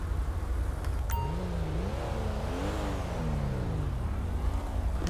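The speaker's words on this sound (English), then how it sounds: "Wait for that car to drive past" A car drives past on a road in GTA 5, its engine rising and falling in pitch as it approaches and recedes over a few seconds, moderately loud against steady background noise with no talk.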